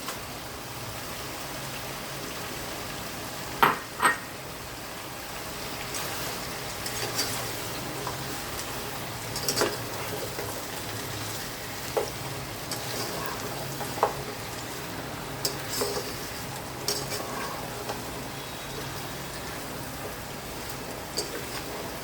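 Ground onion paste frying in a pan for mutton curry, a dense, continuous sizzle that sounds almost like rain, with occasional louder pops and utensil knocks scattered throughout.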